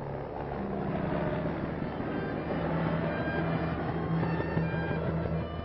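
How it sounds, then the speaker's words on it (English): Army helicopters flying in the 1950s during a hospital mass-casualty tornado disaster drill give a steady, droning rotor and engine roar that holds at an even level throughout, a little muffled and distant. "Army helicopters are speeding the emergency cases to the medical center."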